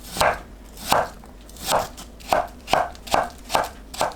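Yam is cut into thin strips with a knife, eight crisp evenly spaced chops on a board, each a sharp close knock with a short crunch, alone with no speech.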